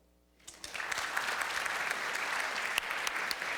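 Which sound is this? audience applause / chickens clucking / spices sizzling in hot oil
audience applause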